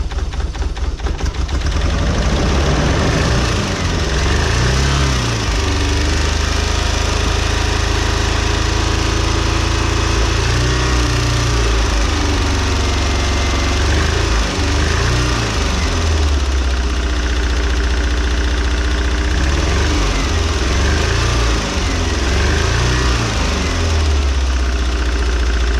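A Mazda Bongo van engine idles loudly up close after fuel and injectors were worked on, a rough continuous rumble with rhythmic knocking pulses and periodic low surges.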